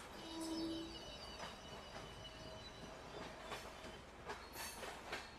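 The Hatia Kharagpur Hatia Express pulling away from a station, with a low rolling rumble, wheel clatter and thin squeals, moderately distant and fairly faint.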